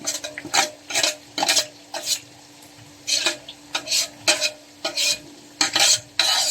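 Garlic fries in a pan for homemade soy sauce, with a soft sizzle beneath a series of sharp, irregular scraping stirs of a utensil against the pan, heard up close.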